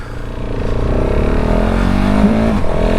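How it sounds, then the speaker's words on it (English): A 2019 KTM 690 SMC R supermoto engine revs hard under acceleration, with quick-shifter upshifts cutting through the loud, close, continuous engine roar. "Oh, quick shifting, you are my best friend."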